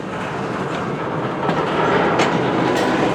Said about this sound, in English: the M396 eastbound train is moving